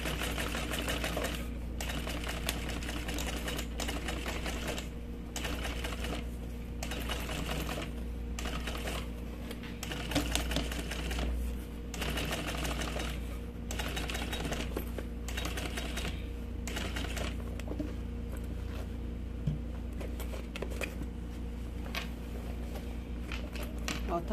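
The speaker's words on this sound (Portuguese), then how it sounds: "só fazer uma costura em volta todinho pra segurar bem" A sewing machine runs in steady bursts, its rapid needle clatter stopping and restarting at short intervals while stitching around the edge of a double cosmetic bag, close and fairly loud, with someone speaking softly between runs.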